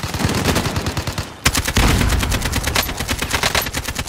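Rapid automatic gunfire in the shooter game Call of Duty: Warzone, dense loud bursts of shots, then a sharp break and another sustained volley of cracking rounds, close and without talk.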